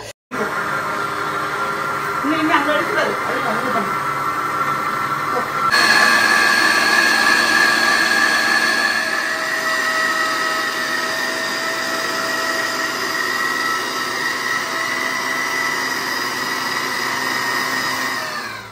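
An electric mixer running fast on speed 9 beats butter with brown sugar for cookie dough, a steady loud whirring drone that rises in pitch partway through and holds for the whole stretch, with a brief voice early on.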